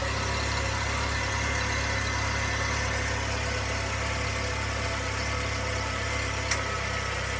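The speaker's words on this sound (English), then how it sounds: "we got the car running. We've been letting it idle for a little bit." A Nissan Kicks engine idles with a steady low hum and a constant mid-frequency drone, close and even throughout, with one brief click near the end and no talking.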